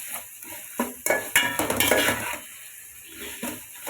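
Chicken pulav masala frying in a pan, a soft sizzle under scraping stirs and sharp metallic clinks of a spoon against the pan, busiest in the middle and quieter toward the end.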